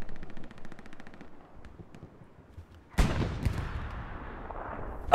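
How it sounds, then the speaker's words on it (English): Artillery and gunfire in the WWII shooter Hell Let Loose on Utah Beach: faint, scattered shots at first, then a loud burst of explosions and heavy fire from the third second onward, sustained and close. "They're getting farmed by the artillery."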